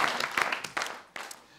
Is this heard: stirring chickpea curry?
no